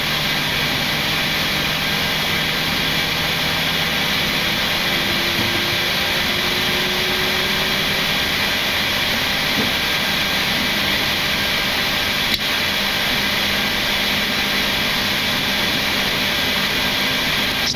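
Jet engines of a Flair Airlines Boeing 737 MAX spool up and settle at Toronto before a flight to Calgary, a loud, continuous whine and roar heard from inside the aircraft with no speech.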